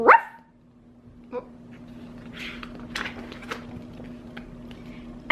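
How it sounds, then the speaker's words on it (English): Cartoon puppies yip and bark in short, sharp bursts, one at the start and one at the end, with softer yips and whimpers in between over a faint hum. "They were taught to yip, never yap."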